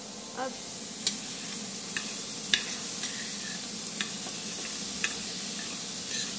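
A utensil stirs food in a steadily sizzling pan, with light scraping clicks every second or so over the constant frying hiss.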